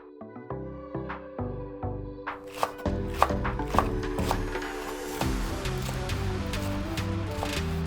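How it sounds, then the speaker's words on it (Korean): A knife chops carrots and potatoes on a cutting board in quick, regular taps, with sharp close strikes over soft background music. "당근과 감자는 잘 안 익을 수 있기 때문에 너무 두껍지 않은 크기로 썰어주시면 좋을 것 같아요"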